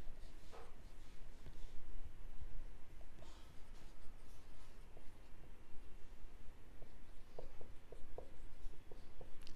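Marker or chalk writing accounting entries on a classroom board, a steady run of scratchy strokes and taps across the whole stretch with no talking.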